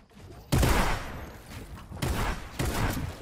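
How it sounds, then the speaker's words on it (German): Video game gunfire aimed at the player comes in dense, loud crackling volleys with a short lull between bursts. "Die schießen echt alle auf mich."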